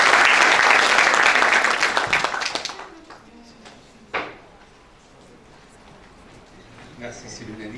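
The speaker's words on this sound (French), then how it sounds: "je vous convie à applaudir mon collègue Si Saad, à qui je souhaite la bienvenue." An audience at a university conference in Morocco applauds loudly for a few seconds. The clapping then fades, and a faint knock and some shuffling follow in the quiet hall.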